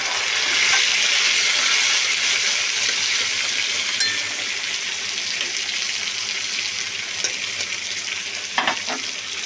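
Onion and tomato sizzling and frying in a pan with a steady, bright hiss throughout, plus a few faint clinks and stirring sounds near the end.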